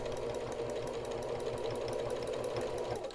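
A sewing machine runs steadily, stitching the seam of a cloth face mask in one continuous, close and fairly loud whir with a rapid mechanical pulse and no pauses.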